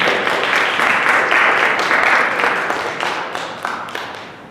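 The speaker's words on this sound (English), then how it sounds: "Let's give another round of applause to our judges," An audience at a high school bachelor pageant gives a round of applause for the judges, tech crew and backstage crew, dense steady clapping that swells early and then slowly fades toward the end.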